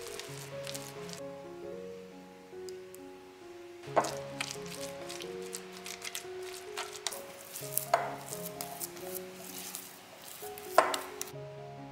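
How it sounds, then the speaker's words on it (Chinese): Egg is stirred into choux pastry dough in a bowl, giving wet squelching and thick sticky slaps in repeated bursts over a faint background tone, close and alone with no voices. "分多次加入鸡蛋液，每次加入鸡蛋液都要搅拌均匀"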